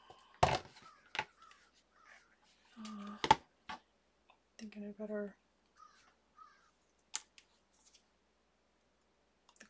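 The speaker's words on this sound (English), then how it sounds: "Crows are after my birdseed." Crows caw near a garden birdseed feeder, a few harsh calls spaced out among clicks and rustles while a person speaks briefly.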